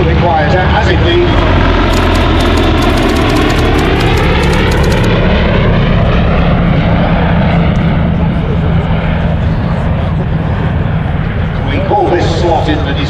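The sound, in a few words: vintage aircraft with Bristol Pegasus engine flying at air show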